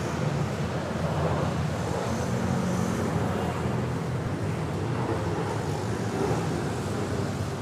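A Cebu Pacific airliner departing Manila airport for Legazpi, a steady broadband jet roar that holds loud and even throughout, with wind buffeting mixed in and no voices.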